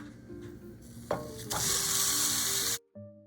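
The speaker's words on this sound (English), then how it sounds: "When stir-frying the beef, it is helpful to start chopping it up" Steady sizzling of beef stir-frying in an oiled pan on medium-high heat, swelling louder midway with stirring clatter as the beef is chopped up, then cutting off abruptly near the end.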